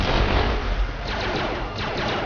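Rapid gunfire in Family Guy: Back to the Multiverse rattles out in dense overlapping bursts, loud and close, with thumping impacts blending into a continuous barrage.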